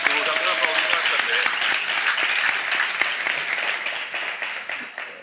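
A theatre audience applauds steadily in a dense patter of claps that slowly thins toward the end.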